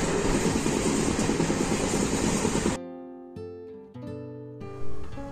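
The 13019 Bagh Express runs on rails from Kolkata toward Kathgodam, making a loud, close, continuous rumble for a few seconds before it gives way to tonal music.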